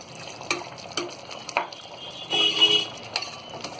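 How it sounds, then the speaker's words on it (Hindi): Half a cup of water goes into a pan of potato and pea curry, followed by stirring: several distinct spoon scrapes and clinks against the pot, with a brief splashy pour in the middle, close and fairly clear. "तो यहाँ हमने ये आधा कप पानी लिया, ये डाल देंगे, अच्छी तरह इसे चला देंगे।"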